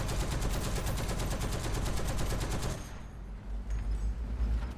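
An American T34 tank's machine gun fires in a sustained rapid burst in a video game, a loud even stream of shots that cuts off after about three seconds, leaving low rumbling background noise.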